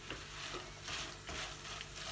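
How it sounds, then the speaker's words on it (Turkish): Dried peppers dry-roast and crackle in a pan without oil, a faint, steady sizzle with soft bursts of stirring scrapes, no voices. "Islatınca bu şekilde çıtır çıtır bir kavrulma olmayacağı için kuru kuru kızartıyorum."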